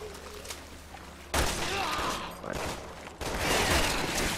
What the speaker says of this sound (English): Dude, I'm shooting the shit out of him